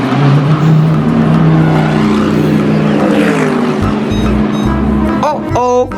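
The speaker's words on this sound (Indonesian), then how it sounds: "lihat teman-teman, ada mobil balap." A toy race car runs with a loud, steady whirring drone, close by, and the motor note slides near the end. Someone speaks briefly over it.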